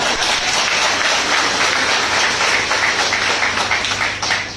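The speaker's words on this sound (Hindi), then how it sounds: "बहुत बढ़िया, जोरदार तालियां।" Audience applause at a live business gathering for IMC, a steady, dense wash of clapping from a crowd that stays loud and even throughout, briefly dipping near the end.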